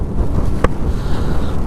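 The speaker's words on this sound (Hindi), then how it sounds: "और क्या हवा चल रही है यार इधर" Strong wind buffets the microphone at Malshej Ghat on a foggy monsoon scooter ride, a steady low roar with one brief sharp knock partway through.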